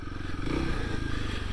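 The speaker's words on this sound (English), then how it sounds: "This bike also has quite a bit of engine braking" Engine of a 2021 Kawasaki KLX300 dual-sport motorcycle while riding, a steady low rumbling drone with a brief swell partway through, close and continuous, with scraping and rattling texture mixed in.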